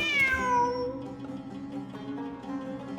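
A cat in the Genshin Impact game gives a single drawn-out meow with a falling pitch near the start, followed by quieter ambient game sounds and faint background tones.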